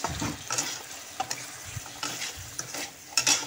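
Potatoes and peas fry with spices in a pan while being stirred, producing a close, soft sizzle under repeated scraping stirs of the spoon.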